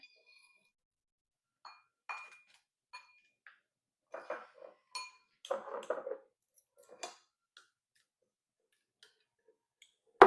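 Kefir grains are set into a glass bowl, giving scattered soft clinks and taps of glass and utensils, sparse and quiet with silent gaps, ending in a louder knock.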